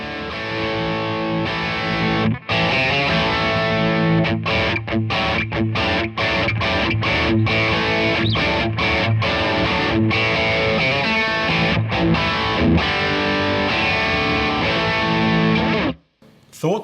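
An electric guitar plays through a Blackstar LT Compact Distortion pedal, giving thick, saturated chords and choppy stabs with brief gaps, loud and up close before cutting out near the end.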